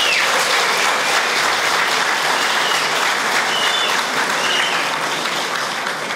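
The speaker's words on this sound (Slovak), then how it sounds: "Druhú cenu, tak veľký potlesk." A crowd at a village folk festival in Dežerice claps loudly after a prize is announced, a dense, continuous burst of applause that fills the whole stretch.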